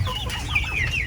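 Chickens cluck close by while feeding on bananas at a backyard farm, a short burst of several rising, throaty calls over low background rumble.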